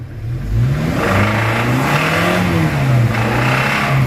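A faulty Toyota Innova engine revs loudly and steadily with a wavering drone, the knocking fault associated with the crank or connecting rod, heard close up with no talking.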